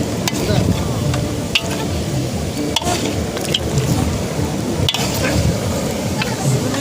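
Pork chunks frying in a karahi over an open fire at an outdoor picnic, a loud continuous sizzle with wet squishing and sharp scraping clacks of stirring.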